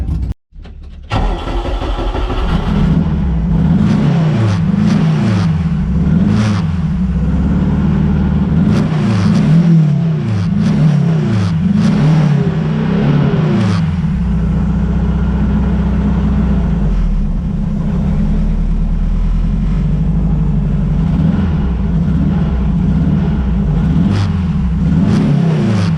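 A Honda car engine with a shift cut starts, then revs repeatedly in rising and falling pulls before settling into a loud, steady drone, heard close by.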